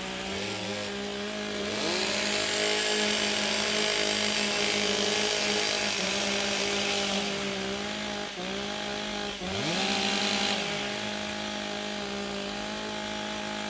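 Several chainsaws rev and idle together at a STIHL TIMBERSPORTS Australian Trophy competition in 2024, a continuous loud droning whine with repeated throttle blips and dips over roughly fourteen seconds.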